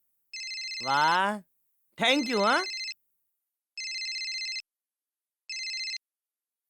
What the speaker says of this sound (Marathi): ती बघा तुमच्या फोनची रिंग वाजते आहे.